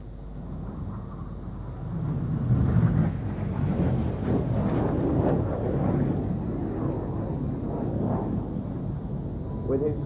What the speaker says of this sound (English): pitching up now is Red 6, leader of the synchro pair, Flight Lieutenant James McMillan